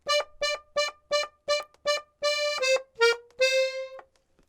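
An accordion plays the waltz "Tumba Lalaika", a melody of short repeated notes that lengthen into held tones toward the end, clear and alone with no talking.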